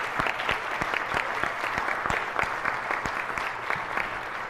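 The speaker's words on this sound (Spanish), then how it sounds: "yo les pido un gran aplauso para todos" Audience applause at an academic event before a diploma ceremony, many distinct sharp hand claps in a fairly sparse, steady rhythm from a modest crowd, with no talking over it.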